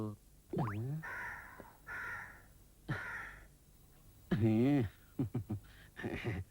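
A crow caws several times, harsh calls rising and falling with short clipped caws near the end, fairly close and standing out against a quiet background.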